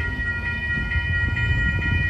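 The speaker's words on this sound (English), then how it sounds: "Here comes Amtrak Capital Corridor train 727 to San Jose Dearborn Station." An Amtrak Capital Corridor passenger train rumbles past close by at the 98th Avenue railroad crossing in Oakland, California, with a steady rolling roar, while high crossing warning tones ring continuously above it.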